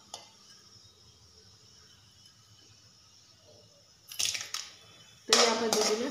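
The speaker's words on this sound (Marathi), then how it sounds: "चला तर मग मी सगळे खडे मसाले परतून घेते" Whole spices, including bay leaf, sizzling in hot ghee for Maharashtrian spiced rice, a faint crackle at first, then two loud bursts of frying hiss near the end.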